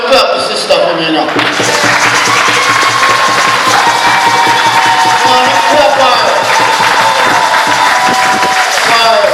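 Crowd at a royal award banquet clapping, loud and sustained across the whole stretch, mixed with cheering voices and background chatter.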